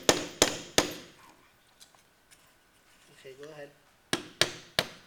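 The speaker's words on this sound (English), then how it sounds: "So now you can hit this here until that pounds itself in." Hammer blows drive a dowel pin into a wheel tool, sharp close metallic strikes in quick sets of three at the start and end, with a short spoken line in between.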